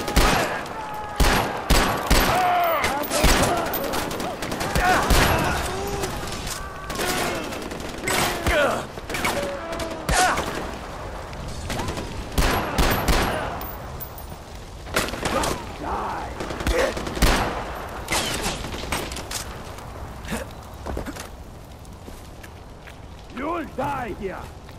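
Gunfire rattles through a Far Cry 4 firefight at a radio tower outpost, dense irregular volleys of sharp shots and bursts continuing throughout, with voices talking at times over the shooting.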